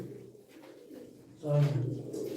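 Pigeons coo at a bird sale, a soft low cooing that swells to a louder, close call near the end while someone talks in the background.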